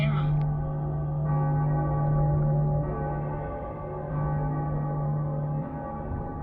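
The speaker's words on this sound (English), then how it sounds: "Bells were cracked too. Gave off this eerie, atonal clang." Cracked bells in the video game Cyberpunk give an eerie, atonal clang, a sustained droning metallic hum with a struck onset at the start and slow swells of resonance throughout.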